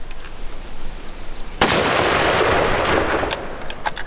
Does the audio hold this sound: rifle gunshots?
yes